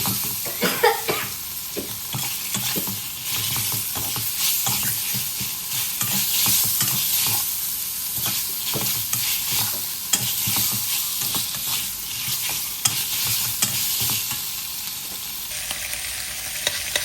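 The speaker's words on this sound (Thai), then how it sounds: "ผัดต่อไปนะครับ ให้เข้าเครื่องนะฮะ คลุกเข้าผสมให้เข้ากันนะครับ" Pork ribs stir-fried in a hot pan sizzle loudly and continuously while a utensil scrapes and tosses them in steady irregular strokes, close and without talking.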